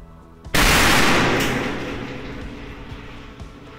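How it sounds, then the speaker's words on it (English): A shock tube at a blast test facility fires a simulated explosion: one sudden, very loud boom that lingers as a long, slowly fading roar over several seconds. "a demonstration test in our shock tube to show them what a blast load will do on a structural component"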